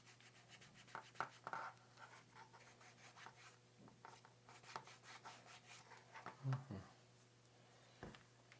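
A hand rubs conditioning product into a leather collar, giving soft, close, uneven scuffing and brushing strokes at a quiet level.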